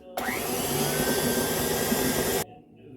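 An electric mixer creams butter for chocolate flan cake batter, a steady, loud whirring drone running for a bit over two seconds before cutting off abruptly, close by with no talk.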